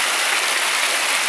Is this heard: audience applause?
no